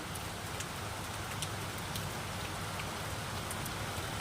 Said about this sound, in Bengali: মানে দু তিন ঘন্টা হয়ে গেল কন্টিনিউ বৃষ্টি হচ্ছে